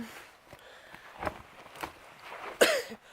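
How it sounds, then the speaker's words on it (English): A single sharp cough bursts out near the end, preceded by a few softer breathy throat sounds in a quiet room. "You coughed!"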